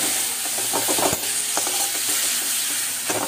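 Spice masala fries in a pan with a constant close sizzle, broken by irregular scraping and clacking strokes as a spoon stirs it.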